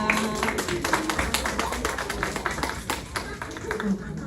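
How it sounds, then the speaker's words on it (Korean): Applause from a church congregation at an afternoon church gathering, a dense steady patter of many hands with voices murmuring underneath throughout. "우리 큰 박수로 맞이해 주세요"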